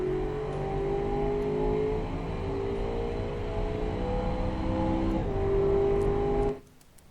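Steady, loud V8 engine drone from a 2009 Crown Conquest large saloon in the Automation car game, holding a rising pitch for about six seconds under hard acceleration before cutting away abruptly to near quiet.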